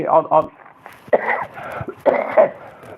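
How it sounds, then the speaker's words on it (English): A few harsh coughs and throat-clearing bursts come in quick clusters, loud and close, with short pauses between them. "want to apologise for my cough."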